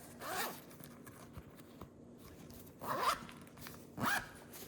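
Zipper on a Vera Bradley wallet being pulled open, three short zipping strokes close up, separated by quiet pauses.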